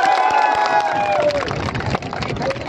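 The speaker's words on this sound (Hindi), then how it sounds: "जोरदार तालियां बजाइए" Crowd at a sports match in Mewat, India, claps and cheers loudly and steadily throughout, with a long whistle-like tone over the dense noise at first.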